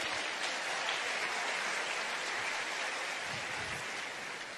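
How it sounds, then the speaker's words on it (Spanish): Dense, steady applause from a church congregation giving praise, a continuous wash of clapping at fairly even loudness with no voices over it. "Un aplauso al Señor."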